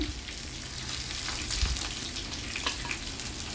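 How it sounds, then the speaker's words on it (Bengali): Hilsa fish frying in oil makes a continuous crackling sizzle with a few louder spits and pops, heard close and without voices. "আমাদের ইলিশ ভাজা প্রায় শেষের দিকে।"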